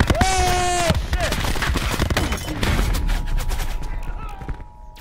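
Rapid gunfire in Call of Duty: Black Ops 4, dense bursts of shots crackling through the first seconds, then thinning into scattered pops with a steady tone beneath, loud and close in the mix.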